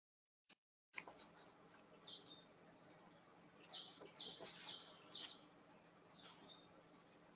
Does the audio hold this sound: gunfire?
no